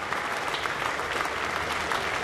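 A baseball stadium crowd applauds during a Baltimore at New York Yankees game, a steady, dense wash of clapping and crowd noise that continues without a break and no clear voices on top.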